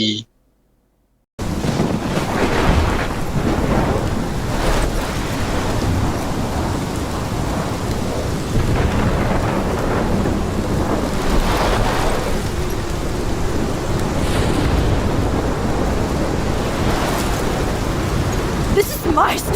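Heavy thunderstorm with steady pouring rain in the Life Is Strange video game, a loud, dense roar that runs unbroken after a brief silence, with rumbles of thunder rising through it and a voice speaking over it.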